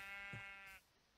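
A single sheep bleat from the video game Minecraft, a short, clear, wavering cry heard alone at moderate volume.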